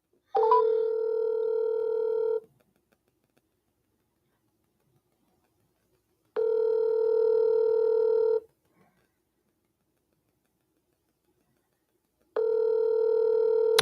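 Telephone dial tone on a phone call: a steady, clean electronic tone sounds in three separate bursts of about two seconds each, with long silent gaps between them and no talking.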